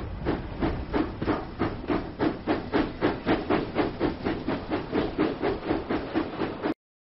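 Steam train from a Thomas and Friends video game giving a steady run of rhythmic hissing steam puffs, loud and close, repeating at an even pace for several seconds before cutting off abruptly.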